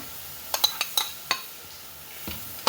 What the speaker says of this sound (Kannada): ಮಸಾಲೆ ಸರಿ ಮಿಕ್ಸ್ ಮಾಡಿ ಮುಚ್ಚಿಟ್ಕೊಂಡು ಬಿಡುವ.